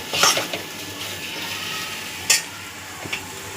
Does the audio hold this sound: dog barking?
no